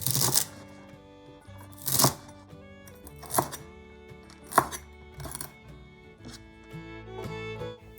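A knife chops parsley into short 3.5 cm pieces on a cutting board, with several distinct sharp strikes at an uneven pace, close and clear, and no talking.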